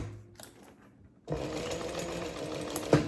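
A sewing machine stitching a backpack: a brief start, a pause, then a steady close mechanical whir of rapid stitching running continuously to the end.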